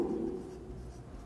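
A pen moves across a page of an account book in a faint, brief scratchy stroke lasting well under a second, with the quiet room tone continuing after it.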